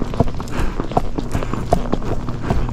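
Hooves of a Missouri Fox Trotter mare clip-clopping along a farm road in a steady, close four-beat rhythm, each footfall distinct against light outdoor background.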